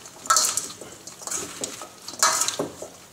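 Salad is tossed with extra virgin olive oil in a bowl, giving close, intermittent clinks and scraping stirs in a few bursts, with nobody talking.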